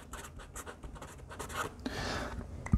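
Pen scratching across paper as someone writes a word by hand, a close run of quick, soft strokes and scrapes with a brief tap at the end.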